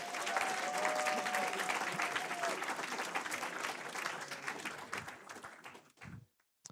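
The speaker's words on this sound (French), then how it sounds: "on l'applaudit bien fort" An audience at a Corewar programming championship breaks into vigorous, close-sounding applause that holds for about five seconds and then trails off into near silence.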